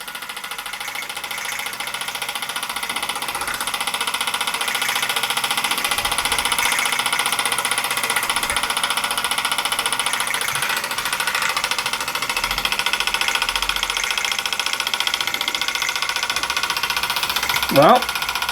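Mersey model steam engine running steadily, a continuous fast mechanical chatter held at moderate level throughout, under a voice talking, with a brief whistling squeak near the end.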